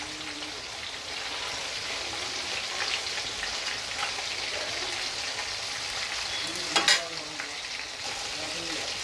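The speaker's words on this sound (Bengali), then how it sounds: "হালকা করে ভাজবো তাই এটা পাল্টি করে দিই একবার" Bhetki fish fries lightly in hot oil for a wedding-style Bengali kalia, a steady, dense sizzle running throughout with one brief, sharper clatter near the end.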